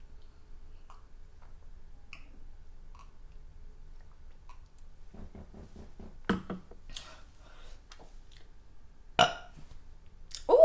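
Burps after eating White Castle Impossible sliders, a couple of short, close, dry bursts with small mouth clicks and swallowing noises in an otherwise quiet room.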